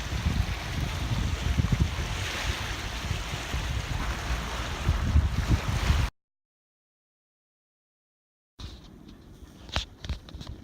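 A boat motor drones steadily with water rushing and wind noise for several seconds off Corfu and Lefkas, Greece, then silence, followed by fainter water and knocking sounds.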